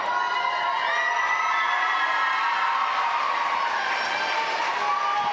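Students at a high school girls' swim meet cheer and shout nonstop in a loud, echoing crowd roar that holds steady throughout.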